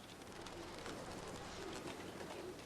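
Racing pigeons coo softly at a rooftop dovecote in Kowloon Walled City, Hong Kong, in 1988. Low repeated coos sit under a dense, hissy background of city noise, faint and steady throughout.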